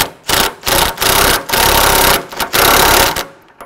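An impact gun tightens the locking nut on a snowplow trip spring in several loud, rattling bursts of hammering, each lasting about half a second, separated by brief pauses and heard up close without talk.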